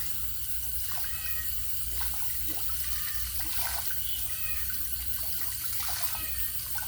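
Steady rushing water from a garden hose rinsing cotton fish filter media, a continuous close wash with no voices.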